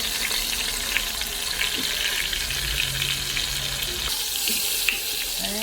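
Beef pot roast searing in oil inside an Instant Pot, a loud, constant close sizzle with occasional crackles and a brief shift partway as the meat is moved.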